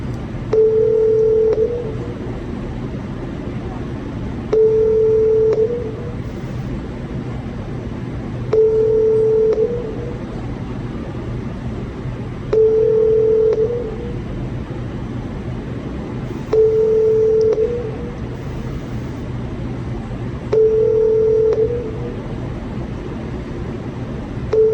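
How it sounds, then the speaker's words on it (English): A telephone rings repeatedly in the lobby of a police department, a steady ring tone sounding at regular intervals about every four seconds over a constant low background hum, with no talking. "Phone's ringing from the lobby of the police department."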